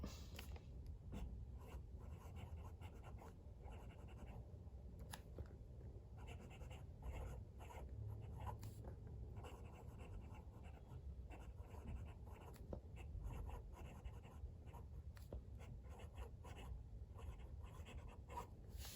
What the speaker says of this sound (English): Let's do a live writing sample now so you can see it in action.